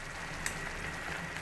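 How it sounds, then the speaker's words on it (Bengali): Whole spices frying in oil in a kadai give off a steady, quiet sizzling hiss with faint crackles, with no voices. "মশলা ভেজে নেব"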